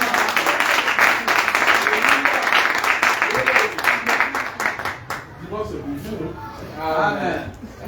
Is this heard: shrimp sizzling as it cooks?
no